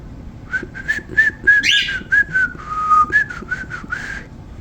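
A person whistling a tune on a morning outdoors in Alaska, a string of short clear notes in an uneven melodic rhythm, close and fairly loud, with no talk over it.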